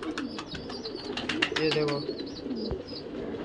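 Pigeons coo in a low, rolling murmur in a pigeon loft, with soft chirps and rustling nearby, as someone speaks briefly in Hindi over them.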